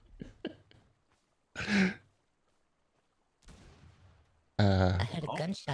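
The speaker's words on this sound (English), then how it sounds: "I heard a gunshot just now." A single sharp gunshot cracks out in a quiet small town, followed by a softer rumbling burst and then loud, close noises at the end, with long near-silent gaps between them.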